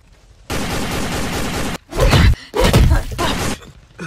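Gunshot sound effects in a plush-toy World War Z skit, heard as loud bursts of gunfire, a sustained burst followed by two sharp heavy blasts, with no talking.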